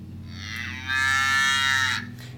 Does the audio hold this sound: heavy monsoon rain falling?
no